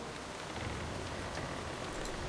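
Steady, dense rain pours in the World of Warcraft game, a continuous hiss of drops at a constant level with no voices over it.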